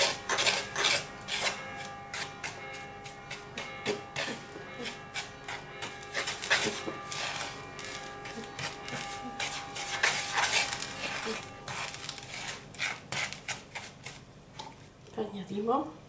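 Homemade cleaning cream being mixed with dishwashing liquid in a bowl: steady scraping and clinking stirring strokes in an uneven rhythm, close and fairly loud. A voice speaks over it now and then.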